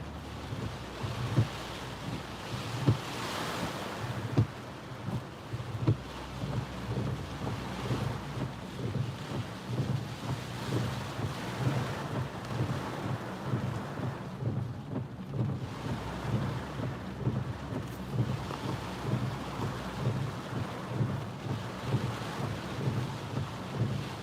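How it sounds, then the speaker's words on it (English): Tropical storm wind and rain lash Myrtle Beach, South Carolina, during Hurricane Isaias landfall: a steady, loud roar of gusting wind buffeting the microphone with rushing rain, continuous throughout with no talking. "You guys see the wind being blown in the rain there?"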